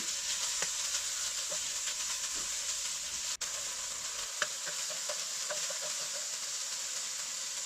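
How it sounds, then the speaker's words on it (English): Meat sizzles in an oiled wok while being stir-fried, a dense, even frying hiss broken by scattered clicks and scrapes of a utensil against the metal, with no voices. "Heat up the wok, add some oil, put the meat in first, stir fry the meat till it's almost done."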